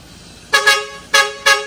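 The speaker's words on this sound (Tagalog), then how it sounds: "Sir, isang pindot pa nga ng busina natin." A loud vehicle horn, fitted as an extra-loud unit, gives two quick pairs of blasts, sharp and close, with a short pause between the pairs and no talking.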